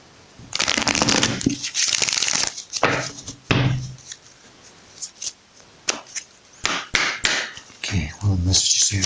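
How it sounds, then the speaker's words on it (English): Tarot cards are shuffled in several quick riffling bursts, crisp and close, separated by short pauses and soft taps. "one more shuffle"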